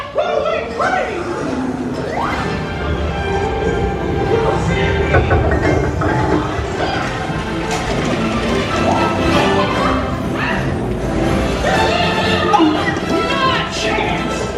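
Dark ride train on Disney's Mickey and Minnie's Runaway Railway at Hollywood Studios, lurching as it jumps the track; a loud, continuous rumble of ride effects and music fills the scene while voices talk throughout.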